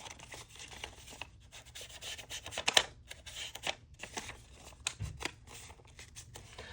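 Paper being inked and rubbed while making a flap for a junk journal from junk mail: soft, uneven scratchy rubbing strokes close by, with a sharper crinkle near the middle and a low thump later, no talking.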